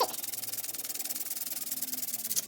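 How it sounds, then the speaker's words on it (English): Rapid back-and-forth sanding rubs down the base of a phone holder, a quiet, fast, even rhythm of scratchy strokes repeating throughout. "I'm going to sand off a few centimeters, a few mm."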